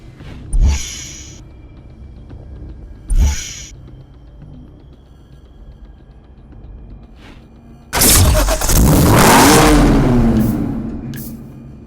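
A car engine in Need for Speed Hot Pursuit Remastered cranks twice in short bursts, then starts with a loud roar and a sustained rev that sweeps up and slowly settles, close and alone.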